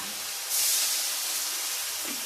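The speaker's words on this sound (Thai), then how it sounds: "ใส่น้ำดื่มน้ำเปล่าลงไปนิดหน่อยจ้ะ" Water hits a hot wok and erupts into a sharp steamy hiss that stays loud and steady, slowly easing.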